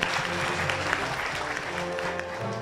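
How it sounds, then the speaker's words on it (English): Applause for Dr. Moses Ikiara, MD of the Kenya Investment Authority, at a Twyford Ceramics Kenya annual conference; a large audience claps steadily and densely throughout, loud and continuous with some faint voices mixed in. "Dr. Moses Ikiara, a big round of applause for him."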